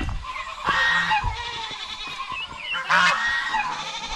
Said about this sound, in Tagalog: Yung mga kambing natin dyan nagsiksika na.